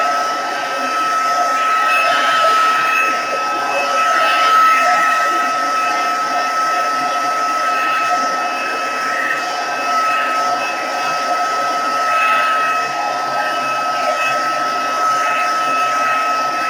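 A hair dryer blows over a watercolour painting of spring tulips to dry it, giving a loud, close, steady whooshing roar that holds unbroken and even from start to finish.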